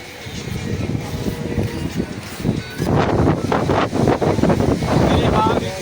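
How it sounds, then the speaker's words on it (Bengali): Gusty wind blows in from the sea at Digha, a steady broad rush that roars louder and harder against the microphone in the second half. "সেই হাওয়া দিচ্ছে"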